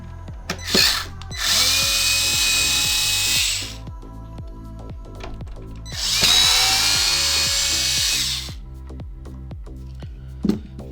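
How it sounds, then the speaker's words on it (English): A powered screwdriver whirs in two sustained bursts, each a few seconds long, as it backs out two screws from an Xbox One X top cover. Small clicks and handling knocks fall between the runs, close by with no speech. "So what we're gonna need to do is unscrew these two screws here."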